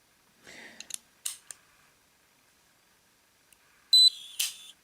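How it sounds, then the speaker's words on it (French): A fingerprint padlock gives short electronic beeps and a brief whirring motorized click as it unlocks, close and clear with quiet gaps between the sounds. "ça fait un petit bip et le truc s'ouvre, c'est motorisé"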